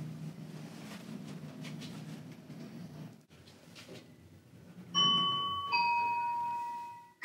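A quiet elevator hum runs under faint noise, then a two-tone electronic chime sounds clearly near the end.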